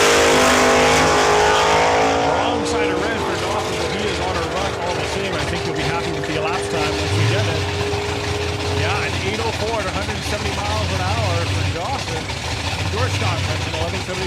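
Drag race pass at a raceway between a Chevrolet Camaro and a 1967 Chevrolet Nova: loud engines roar and rev at launch, then a sustained engine drone fades slightly, with an announcer's voice talking throughout.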